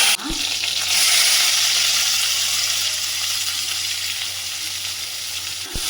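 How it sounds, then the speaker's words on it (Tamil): Mustard seeds, fennel and dried chili spluttering in hot oil in a village-style kitchen while prawn gravy is prepared, a loud steady crackling sizzle that holds for several seconds with no talking. "கடுகு போட்டுக்கலாம். நல்லா பொரிஞ்சு வருது. இப்போ வந்து சோம்பு போட்டுக்கலாம்."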